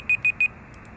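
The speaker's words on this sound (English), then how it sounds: "Oh, that just scared me. I forgot I set a timer." A timer alarm going off: three short, loud electronic beeps in quick even succession, then quiet room tone with faint background noise.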